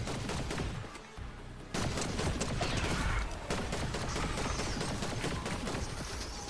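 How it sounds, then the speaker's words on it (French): Rapid pistol burst fire in a video game, dense crackling shots in quick volleys with a brief lull, loud and close, over game ambience. "il y a une cadence de rafale incroyable de pistolet."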